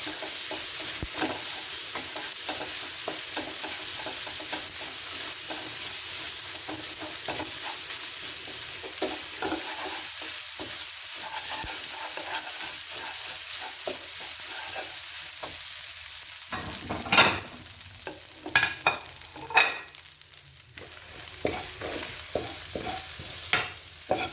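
Thai shrimp fried rice, seasoned with soy sauce, sizzles steadily in a hot pan while a spatula scrapes and clatters against the metal, louder clanks coming toward the end.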